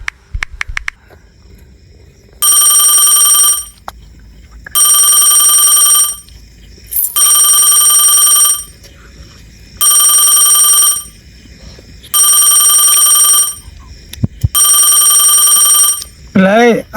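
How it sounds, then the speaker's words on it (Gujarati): A telephone rings in loud, evenly spaced bursts, six long electronic trills separated by short pauses, with faint background noise between rings at night. "લઈ આનો પાછો ફોન ઉપાડવા દે."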